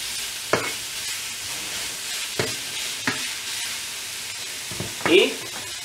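Bolognese mince is stirred in a sizzling frying pan as pepper goes in: a steady, close frying hiss broken by a few distinct scraping strokes of the spoon, the last one louder.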